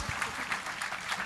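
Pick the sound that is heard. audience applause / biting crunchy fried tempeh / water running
audience applause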